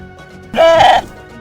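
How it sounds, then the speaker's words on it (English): A goat gives a single loud, nasal bleat lasting about half a second, close and clear against a quiet background. "That goat sure likes your corn and peas, Aunty Nora."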